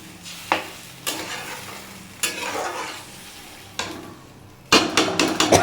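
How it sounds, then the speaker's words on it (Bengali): Food frying in a pan with water just added, stirred with a utensil: several sharp scrapes and clinks against the pan over a soft continuous sizzle, ending in a louder burst of clatter. "এবার জল দিয়ে এটা ভালো করে নাড়াচাড়া করে"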